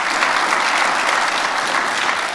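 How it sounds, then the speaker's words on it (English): A dac Days annual conference crowd applauds long-time sellers during a welcome and awards presentation. The clapping is loud, thick and continuous throughout, with no voices. "And round of applause."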